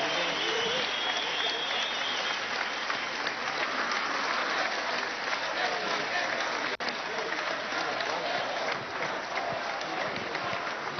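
Sustained, dense applause from a large audience in a theatre, loud and continuous throughout, with crowd noise mixed in.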